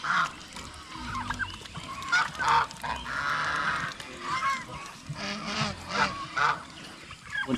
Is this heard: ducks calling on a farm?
yes